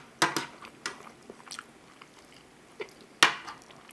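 Close biting and chewing on an egg sandwich during an egg eating challenge: a few sharp crunchy bites followed by softer, irregular wet chewing, with no talking.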